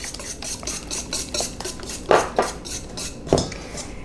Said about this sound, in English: we just, you know, want to whisk this here all together